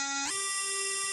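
A single FM synth operator modulated by a second operator at full amount, heard as a steady bright harmonic tone whose pitch glides up once near the start and then holds, buzzy and alone.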